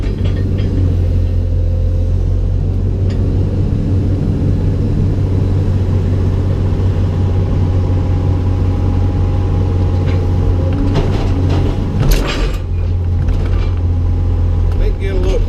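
A long reach Cat excavator digs mud, heard from inside the closed cab as a loud, continuous diesel rumble with mechanical whine and occasional clanks and hydraulic surges.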